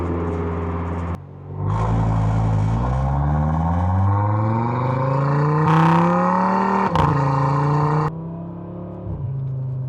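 An Audi RS3 with an ECS valved exhaust pulls hard at about quarter throttle in manual mode, its note rising steadily toward 4,000 rpm before clean gear shifts cut in, loud and close from inside the car.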